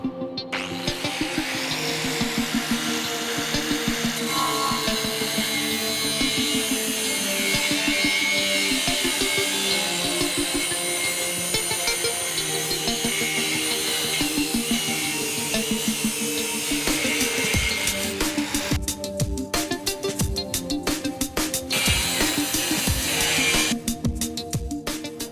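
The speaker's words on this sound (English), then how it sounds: "I'm going to use a grinder to cut the rectangular tube." Angle grinder cutting through rectangular steel tube in a boilermaking workshop, a loud continuous whining grind that holds steady for most of the time, with brief gaps and rough bursts near the end.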